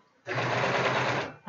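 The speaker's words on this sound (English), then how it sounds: "Stream of really boring stitching." A sewing machine stitching a hoop crinoline, a single close, steady whirring run of rapid stitches lasting about a second before stopping.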